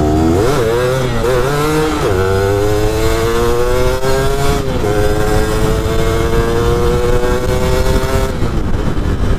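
A 2003 Yamaha F1ZR two-stroke motorcycle with a standard carburettor, a 100 oversize bore and an unported engine revs loudly and up close, its pitch rising and falling through repeated throttle blips over a steady buzzy idle.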